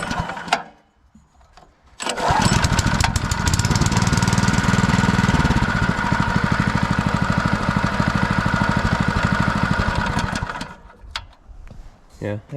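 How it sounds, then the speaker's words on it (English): A Honda clone 3-inch trash pump engine with a little corrosion inside pulls over and fires up after a brief quiet lead-in, then runs loud and steady with a rapid chugging rhythm for about eight seconds before shutting down. "I'll try firing it up one more time just to make sure it's not stuck in the off position now."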